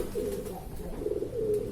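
Soft, low cooing from a pigeon or dove, repeated a couple of times over steady background noise.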